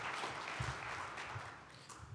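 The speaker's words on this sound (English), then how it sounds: "give a big round of applause to Pierre Dupont" Sustained audience applause fills a conference hall as a speaker is welcomed to the stage, dense steady clapping at moderate loudness for the whole stretch.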